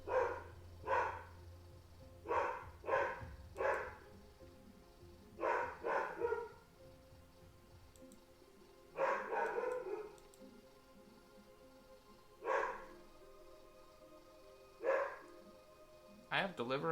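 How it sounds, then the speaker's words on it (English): Several dogs bark in short, scattered bursts, some in quick pairs, faint and somewhat distant behind a quiet indoor room. "Oh, there go the dogs."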